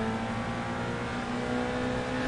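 A Subaru fitted with a swapped four-cylinder Corolla engine drones under steady throttle in the Gran Turismo Sport racing game, a sustained buzzy engine note with little change in pitch.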